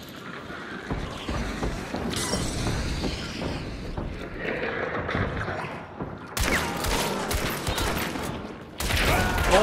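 Gunfire in the video game Hunt: Showdown, bursts of loud shots with noisy wind-like ambience, heaviest in the latter half as several sharp blasts crack through.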